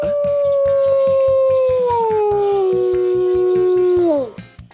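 A wolf gives a long, loud, sustained howl that slides slowly downward and trails off, with a steady rhythmic pulsing music beat running underneath and no talking.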